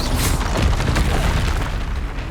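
The Bombarda blasting spell from the Hogwarts Legacy video game lets off a loud, booming explosion that rumbles on for about two seconds and fades only slightly. No one speaks.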